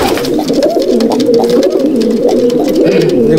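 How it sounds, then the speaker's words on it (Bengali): Pigeons from a Madrasi pigeon loft on a rooftop in Halisahar, North 24 Parganas, coo steadily and loudly close by, with soft wing flutters mixed through the continuous murmur. "পায়রা দুটো আমি ছেড়ে শখ করাচ্ছি।"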